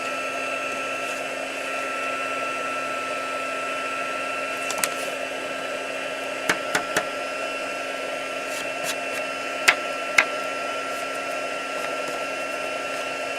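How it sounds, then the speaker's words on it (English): Heat embossing tool for white embossing powder on a sparkly Christmas card, running as a steady whirring hot-air drone at moderate level, with a few faint clicks and taps near the end. "So let's turn my heat embossing tool on"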